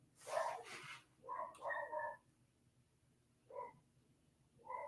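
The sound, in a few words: dog barking in the background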